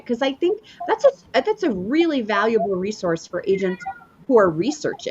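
A cat cries with drawn-out, wavering meows during an interview, partly overlapping a person's ongoing speech.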